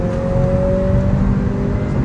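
Engine of a 2023 Acura Integra heard from inside the cabin as it holds a steady, loud drone with a rising tone, pulling hard toward VTEC on a road.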